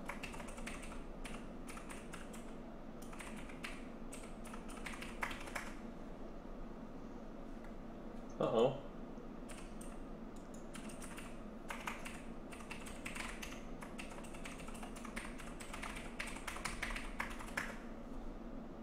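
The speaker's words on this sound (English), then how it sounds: "I can hear myself typing." Typing on a computer keyboard while gaming, quiet rapid clusters of key taps in irregular bursts with a brief louder knock midway, close and faint with no talking.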